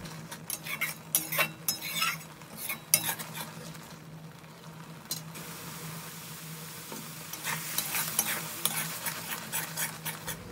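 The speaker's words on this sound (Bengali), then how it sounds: "একটুখানি নাড়াচাড়া করে নেব।" Marinated shrimp stirred into a cooking spice paste in a hot pan: a steady sizzle of frying with repeated scraping and clinking of a utensil against the pot, close and fairly quiet, with no talking.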